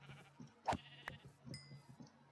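A Minecraft sheep gives soft bleats among faint clicks and game noises, quiet and a little distant, with no talking.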